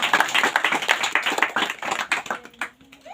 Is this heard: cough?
no